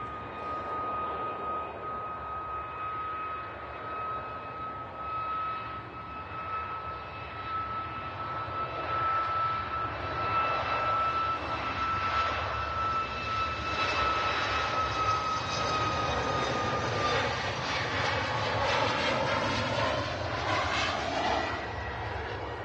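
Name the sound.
Etihad Boeing 787-10 Dreamliner taxiing out at Manchester Airport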